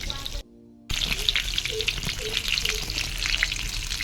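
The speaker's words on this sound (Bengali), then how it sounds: "আমি এখানে মাছ ভাজি মাছ পড়াতে দিয়েছি" Fish frying in a pan in a home kitchen, a steady close hiss and crackle of sizzling oil that drops out briefly near the start and then continues.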